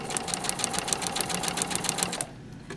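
A sewing machine stitches with a fast, even mechanical patter for about two seconds, then stops.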